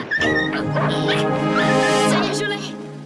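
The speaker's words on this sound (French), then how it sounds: "Il est où le petit chien, sa maman?" Small dog yipping and whimpering in a cartoon scene, high-pitched repeated yelps throughout, loud and close.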